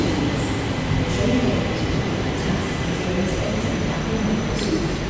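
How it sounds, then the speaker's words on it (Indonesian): A Jakarta LRT light rail train pulls into a station with a steady, loud rumble and rolling roar that continues for the whole stretch without any breaks. "Ini ada kereta lagi yang masuk."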